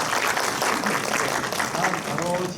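An audience at a medical ultrasound hands-on training seminar applauds after a lecture, a dense patter of clapping from a room full of people, with voices speaking underneath.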